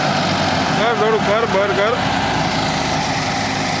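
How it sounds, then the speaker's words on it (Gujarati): A tractor loaded with potatoes and stuck, its engine straining at full power in a loud, steady, close roar while someone talks over it. "બટેકા ભરેલું ટ્રેક્ટર હલવાઈ ગયું હે, તાકાત કરે ફૂલ ટ્રેક્ટર"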